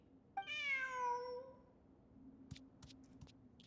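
A single drawn-out cat meow in a video game event exploring ruins, clear and close, followed by a few soft clicks and taps.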